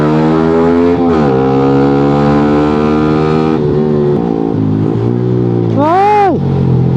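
A Yamaha Sniper 155 motorcycle engine screams at high revs, close and loud, with pitch dipping between gear shifts and then a sharp rising-and-falling rev near the end.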